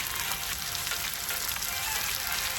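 Tomato, aubergine, potato and fenugreek leaf bhaji cooking in a pan over low heat, a steady close sizzle and hiss throughout with no talking.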